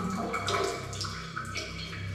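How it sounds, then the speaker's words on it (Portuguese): Water leaks in an abandoned building's former kitchen, making a steady splashing, running-water wash with a few brighter drips and splatters, fairly close by. "Aí vazando tudo."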